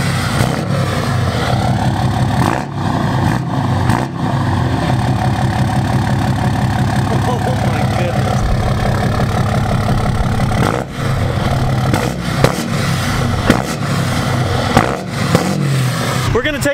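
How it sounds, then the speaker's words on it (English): A 2018 Cummins 6.7 diesel pickup truck engine idles with a steady low rumble and briefly revs a couple of times, with people talking over it. "Get in the truck and rev it a couple times."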